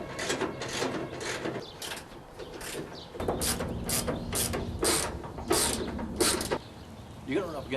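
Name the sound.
ratchet unbolting car cowl and fender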